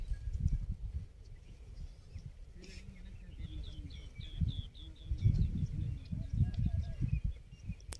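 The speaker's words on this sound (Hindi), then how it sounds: "वो सामने हमारी बकरियाँ चारा चर रही है।" Goats and young kids grazing outdoors bleat in scattered, fairly faint calls, with birds chirping and low rustling and voice-like murmurs underneath.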